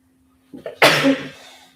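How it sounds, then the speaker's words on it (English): One sharp sneeze, preceded by a brief intake of breath, close and loud against a quiet background with a faint hum. "I know I've got a sneeze coming on."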